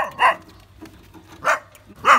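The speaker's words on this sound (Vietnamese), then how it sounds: "chó sủa quá trời quý vị ơi" Dog barking at a house in rural Vietnam, a few sharp barks spaced apart with faint voices in the background.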